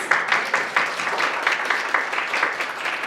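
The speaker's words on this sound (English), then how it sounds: "let's give her a round of applause" Seminar audience giving a speaker a round of applause, a brisk, fairly close clapping with a regular pulsing rhythm throughout.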